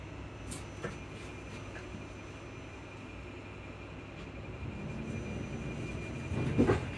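A Class 334 electric train runs between Edinburgh Park and Haymarket, heard from inside as a low steady rumble with faint rattles and a louder clunk near the end, with no talk.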